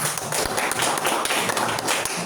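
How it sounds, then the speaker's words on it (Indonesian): A classroom of students claps together in a steady, dense patter, like a room full of people applauding at once. "Tepuk tangan untuk Fadel."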